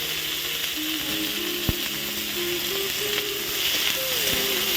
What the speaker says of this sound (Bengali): সেগুলোকে এখন দেখো কড়াইতে দিয়ে ভালোভাবেই আমি কিন্তু কষিয়ে নেবো